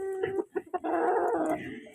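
Close chickens in a flooded coop cluck in a few sharp bursts, then one draws out a longer, wavering cackle.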